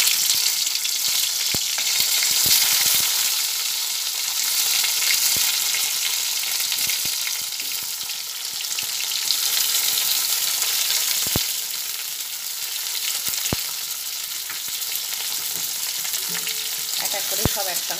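White mustard seeds, dry chilies and chopped tomato frying in a pan, a loud continuous hissing sizzle with occasional sharp ticks of a spatula, close and unbroken for the whole stretch.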